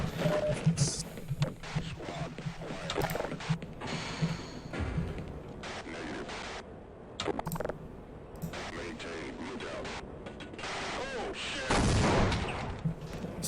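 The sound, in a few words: gunfire at crates in a video game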